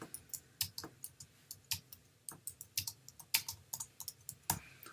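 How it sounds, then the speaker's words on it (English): Fingers tap on a computer keyboard, typing into a chat in a quick irregular series of close, crisp clicks, with brief pauses between bursts and no voices. "you type something into the chat session, click it"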